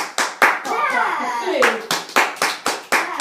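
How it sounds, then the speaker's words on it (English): Sharp single hand claps ring out in a room during a children's violin lesson, about nine distinct claps in a loose rhythm, with a voice speaking in between. "I'll give you a clap."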